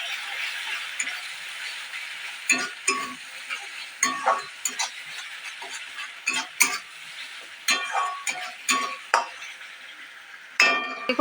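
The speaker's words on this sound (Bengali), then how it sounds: "দিয়ে দেবো কালারের জন্য হলুদ, দিয়ে আমি আরেকটু কষিয়ে নেব" Spiced masala with turmeric sautéing in hot oil in a pan for a Bengali chital fish dish, a steady sizzle broken by irregular scraping stirs and clinks of the spatula, close and continuous with no talk.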